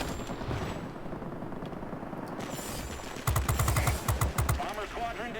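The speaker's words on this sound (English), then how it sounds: "Get our 4 20mm cannons on target here." Rapid bursts of 20mm aircraft cannon fire from a World of Warplanes battle, loud and close, heard as several short repeated volleys in the second half over a steady engine drone.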